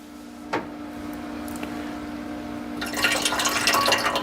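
Pre-melted butter poured into a Vevor bread maker pan, a soft liquid trickle building near the end after a few small taps and clinks, close and quiet with no speech.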